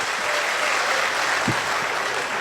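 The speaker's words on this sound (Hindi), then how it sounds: "एक बार इकट्ठे बजाओ सारे ताली, जोरदार" Loud, steady applause from an audience at a Hindi kavi sammelan poetry gathering, dense continuous clapping filling the whole stretch with no voices over it.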